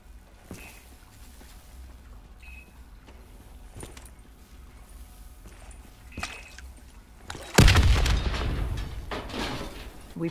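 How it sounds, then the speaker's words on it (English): A bomb blast in Call of Duty: Black Ops III erupts suddenly as a loud, close boom with a long rumbling tail, following quieter scattered thuds and faint ambient noise. "The explosion blocked our path."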